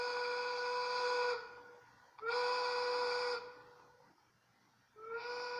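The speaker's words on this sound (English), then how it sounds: "And then you'll hear my whistle sounding 3 times." A steam whistle blows in long, harmonic blasts, three in a row with short pauses between, loud and close.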